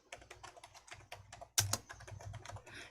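Clicky computer keyboard typing during an Excel exercise, a quick close run of keystrokes with one sharper, louder tap midway, no voices.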